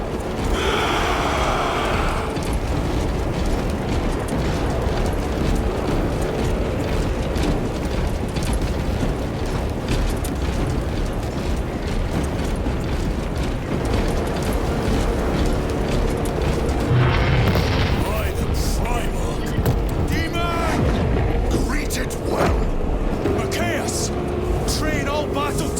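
Massed fire opens in a Warhammer 40,000: Space Marine 2 battle, a dense clatter of guns and heavy mechanical booms running unbroken throughout, loud and close, with shouted voices over the din.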